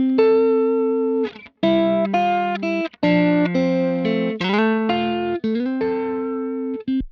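Kemper Profiler electric guitar tone through a gain stage, reamped: sustained distorted chords and notes ring out loudly in several phrases with brief gaps, no voices.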